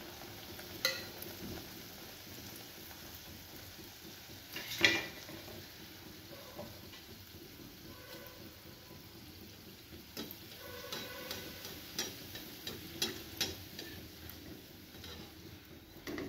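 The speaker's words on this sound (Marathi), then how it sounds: "दुसराही समोसा आपण तळून घेऊ." A samosa deep-frying in oil, a quiet steady bubbling sizzle with scattered ticks and a few sharper clinks of stirring, close and low in level without talk.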